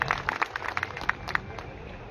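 Audience applause for a guest at a public welcome ceremony, brisk rhythmic clapping from a crowd heard somewhat distant and steady throughout.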